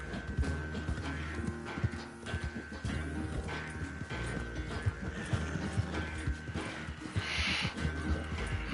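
Horse hooves clip-clopping steadily through a PS4 western video game, with occasional whinnies over a dense, continuous game soundtrack with no talk.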